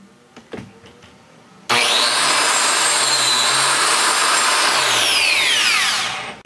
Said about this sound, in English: Next, we want to cut the biscuit slots into the top.